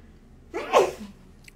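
A single sharp sneeze bursts out close to the microphone, brief and loud against a quiet background.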